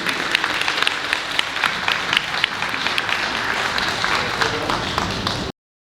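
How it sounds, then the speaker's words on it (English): An audience claps and applauds steadily for about five seconds, a dense patter of hands that stops abruptly. "Round of applause for our incredible guests."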